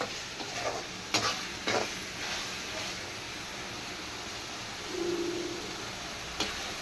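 Pirandai pickle is stirred and sautéed in a pan, with a gentle sizzle running under a few soft scrapes and knocks of the spoon.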